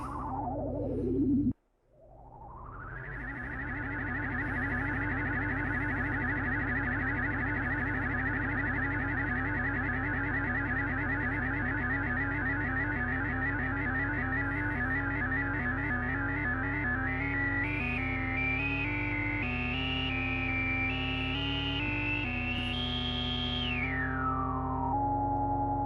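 Ambient drone patch on a Moog Subharmonicon synthesizer, dry with no reverb: a sustained, loud layered tone with stacked subharmonic pitches and a pulsing sequence that gradually rises and brightens, steady throughout after a brief dropout near the start.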